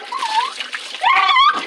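Water poured over a dog during a bath, splashing and spattering close by while people talk over it.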